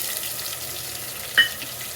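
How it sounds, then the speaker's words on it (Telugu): Prepared paste frying with browned onions for vegetable pulao, a steady soft sizzle throughout with one brief louder scrape or stir near the end. "పచ్చివాసన పోయే వరకు దీన్ని వేయించుకోవాలి"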